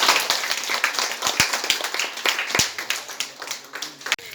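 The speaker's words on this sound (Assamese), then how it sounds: "সকলোৱে কি হাত চাপৰি দিব" Audience clapping at a Bihu dance workshop in Nagaon, a brief burst of scattered hand claps with sharp individual smacks, fairly close and loud, over background chatter.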